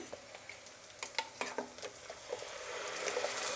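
Ground masala frying with onions and curry leaves in a pan for a dal dish, sizzling steadily while a spatula scrapes and stirs in several distinct strokes, close and moderately loud with no talk.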